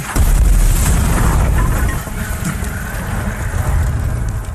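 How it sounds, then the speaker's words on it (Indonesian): A film explosion from an explosive weapon blasting a large hole, a heavy booming roar with deep low rumble that sustains loudly for several seconds. "Drasa pun mengambil senjata peledak untuk membuat lubang besar"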